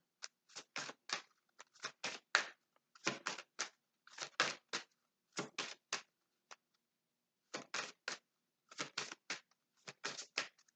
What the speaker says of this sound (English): I'm going to put it back and reshuffle.